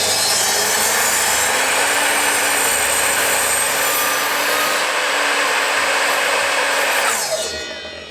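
An Evolution R255 sliding mitre saw cuts through wood, its loud steady whine and grinding bite running for about seven seconds before the motor winds down at the end.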